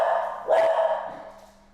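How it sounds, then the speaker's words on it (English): A dog barks once at close range over a steady low hum, followed by a softer trailing sound as the noise fades. "Dogs barking."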